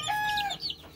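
Hens and chickens on a backyard property clucking and squawking, a short burst of close, bright calls that fades within a second.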